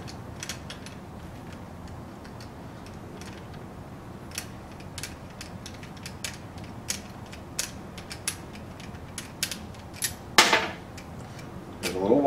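A wing nut being unscrewed on a forearm crutch gives a series of small, sharp mechanical clicks and creaks at an uneven pace, close and fairly quiet over a low background hum.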